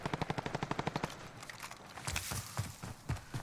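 Rapid automatic gunfire in the shooter Call of Duty Modern Warfare, a tight burst of evenly spaced shots followed by scattered, irregular shots and impacts, fairly close.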